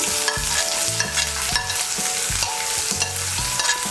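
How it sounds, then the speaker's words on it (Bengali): Chopped onion and green chillies frying in hot oil for an egg and brinjal bhorta, a loud continuous sizzle with repeated stirring scrapes close by and no talking. "পেঁয়াজ কুচি আর কাঁচা লঙ্কা কুচিটাকে তেলের সঙ্গে মিশিয়ে নিয়ে ভেজে নেব"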